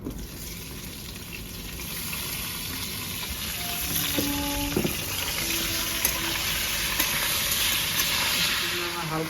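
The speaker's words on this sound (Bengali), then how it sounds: "এখানে আমি আলু আর সিম একসঙ্গে ভেজে দেবো।" Potatoes and flat beans fry in mustard oil in a wok, giving a steady loud sizzle and hiss that holds throughout, with faint clinks of utensils partway through.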